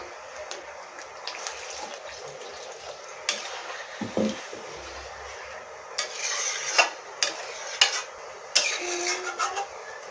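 Water splashes into a pan of butter paneer gravy in short bursts, mixed with clinks of a utensil against the pan and stirring, fairly quiet with soft background noise.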